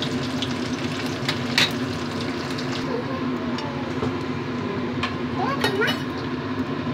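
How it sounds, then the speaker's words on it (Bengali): Fish fries in a pan after being flipped, a steady dense sizzle and crackle close up, with a few brief scraping clinks from the utensil and no talk. "একটা সাইড ভাজা হয়ে গেছে, উল্টে দিয়েছি, আর একটা সাইড আরেকটু ভাজা হয়ে যাবে"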